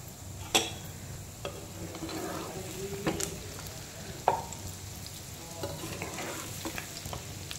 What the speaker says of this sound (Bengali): তালের বড়াগুলো হালকা আঁচে হবে